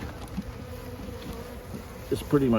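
Honey bees fill a hive's brood chamber with a dense, steady buzzing drone, close and continuous, with a few brief louder knocks and rustles near the end.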